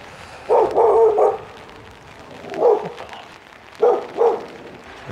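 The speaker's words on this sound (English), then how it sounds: "The dog was barking at me there." A dog barks a few times at night on a rainy back street in Blackpool's North Shore, moderately close, in short clustered bursts separated by pauses, over a faint background of light rain.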